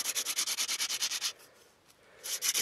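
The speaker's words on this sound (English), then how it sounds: "As the heat of the spindle on the hearth board changes the vibration, makes for a duller, softer, almost spongy noise." Bow drill spindle rubbing rapidly against a wooden hearth board for friction fire, a steady rhythmic scraping back and forth, close and fairly loud, pausing briefly before the strokes resume.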